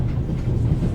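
Steady low rumble of a train ride in The Raven video game, a continuous dense low-frequency drone with faint rolling texture and no talk.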